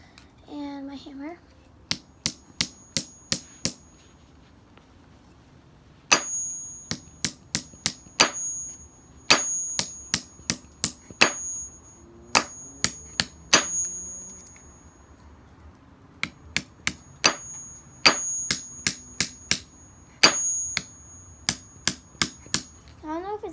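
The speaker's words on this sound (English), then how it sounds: "So let's get the hammer." Repeated sharp metallic hammer strikes outdoors in quick bursts of several blows, separated by short pauses, with occasional faint voices between.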